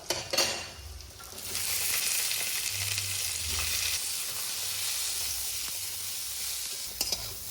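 Potatoes and beans fry in a hot pan, a steady loud sizzle that lasts throughout, with a few stirring scrapes near the start and end and no one talking.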